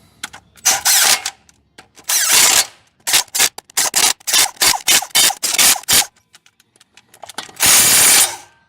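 Impact gun tightening driveshaft bolts on a 1965 Chevy C10 truck: several loud bursts of rapid ratcheting hammering, a couple of long runs then a quick series of short blasts, with a final long burst.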